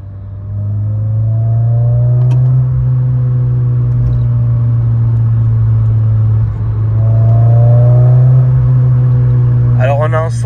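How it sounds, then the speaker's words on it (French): Renault Clio 16S engine and exhaust accelerating hard through two long pulls with a brief lift between, a loud, steady low drone rising in pitch, heard from inside the car. "Alors on a un son d'échappement qui est omniprésent dans la voiture"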